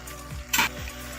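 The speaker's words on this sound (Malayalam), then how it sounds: "ഒരു ഇളക്കൂടെ ഇളക്കി കൊടുക്കാം." Chilli chicken is stirred in a sizzling pan, with a spoon scraping the pan twice and a brief clink of metal between the scrapes, close up and without talking.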